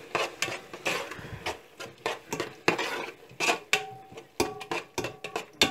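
A spoon scrapes and clanks against a pot while biryani ingredients and chopped mint are stirred together, giving a steady series of sharp metallic knocks and scrapes, close and without any talking.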